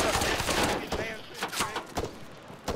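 Video game gunfire in ArmA 3, a rapid volley of sharp shots in quick succession, loud and near, then a few scattered bursts, mixed with voices talking.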